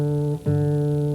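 A single plucked fourth string on an acoustic guitar rings as a clear, sustained tone, briefly damped and then sounded again, close and alone.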